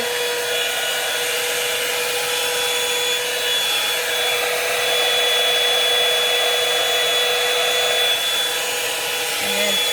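A blowdryer brush runs steadily close by while drying long hair, its loud, even airflow whirring continuously with a faint high motor whine and no pauses throughout.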